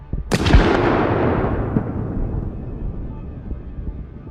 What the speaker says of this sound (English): Simultaneously, Ukrainian artillery put pressure on the Russian convoy, striking another APC.